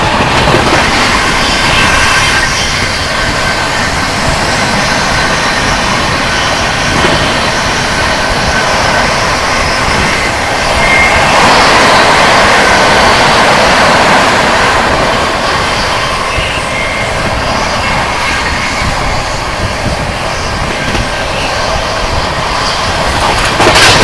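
The New Delhi - Banaras Superfast Express runs at speed, heard from inside a 2AC coach: a loud, steady roar of wheels and rushing air with a constant rumble and no break throughout.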